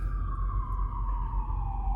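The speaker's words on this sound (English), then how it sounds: "Lights and sirens." A police siren wails steadily at a distance, its tone sliding slowly downward as it passes, with low rumbling traffic underneath.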